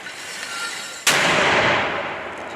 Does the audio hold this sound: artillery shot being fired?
yes